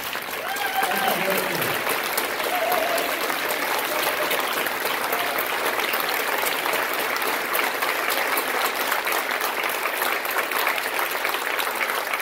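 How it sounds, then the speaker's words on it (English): An audience at a college honor band concert gives a sustained round of applause for the band directors, a dense, even wash of clapping lasting throughout, with a voice briefly heard at the start. "So please stand up and let's all applaud these directors and their"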